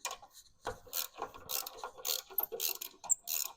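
A hand ratchet with an Astro pneumatic impact-style swivel socket works back and forth on a rusted exhaust bolt on a Nissan Altima, giving close, repeated bursts of clicking pawl strokes with short pauses between them.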